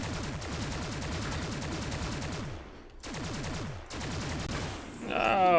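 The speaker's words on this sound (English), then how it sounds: "Right, I need to shoot backwards." Rapid bursts of video game gunfire fired backwards in a level, dense regular shots in two long runs with a brief gap near three seconds, ending in a rising electronic tone.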